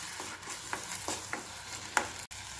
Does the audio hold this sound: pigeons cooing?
no